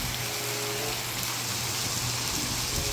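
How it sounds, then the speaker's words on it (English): Heavy rain pours down during Halloween trick-or-treating in the Philippines, a dense constant hiss of drops drumming on surfaces, steady and fairly close throughout. "Oh no, it is raining a lot."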